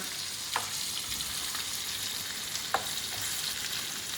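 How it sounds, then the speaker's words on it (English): Flour-coated fish searing in a pan for cioppino, a steady soft hiss of frying oil with two brief sharper crackles, close and fairly quiet. "I want a nice soft sear."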